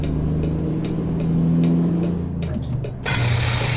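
A big rig in American Truck Simulator idles with a low engine rumble, then its air brake lets go with a sudden loud hiss of released pressure that holds to the end.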